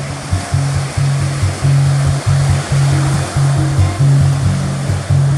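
Ocean waves at a surf spot in calm, nearly windless conditions with a faint offshore breeze, a steady loud wash of surf with repeated low rumbling swells, no voices.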